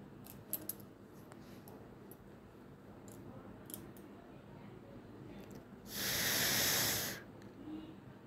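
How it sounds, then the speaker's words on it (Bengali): Battered topse fish hits hot oil in one loud, hissing burst of frying that lasts about a second, then fades, with quiet kitchen clatter and faint background noise around it. "তারপরে ব্যাটারে চুবিয়ে গরম তেলে ভাজবো।"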